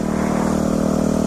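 A motorcycle engine running at a steady idle with a constant low throb and a faint higher whine, close and loud, with no voices.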